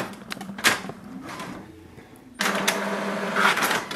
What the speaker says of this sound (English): here we can see it has instantly started the printing